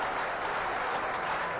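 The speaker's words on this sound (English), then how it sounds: "Warm round of applause drawn there for a big collision" Crowd at a rugby league match between Featherstone and Bradford gives a brief, warm round of applause after a big collision, a dense, even patter of clapping from a distant stand.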